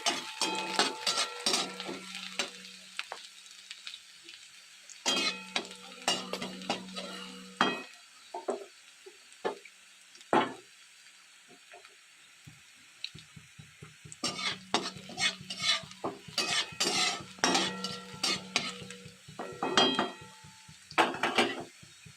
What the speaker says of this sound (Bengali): এবার রসুনটা একটু ভাজা ভাজা হবে।